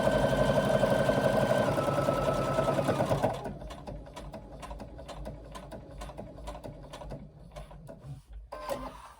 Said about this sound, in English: going to stitch down the side of the pocket